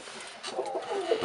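Tippler pigeons cooing inside a loft, a soft, close, low burbling coo over about a second, with no voices.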